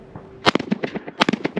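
Two sharp, loud shotgun reports less than a second apart fire at flying clay targets in double trap shooting, each blast followed by a brief crackling echo.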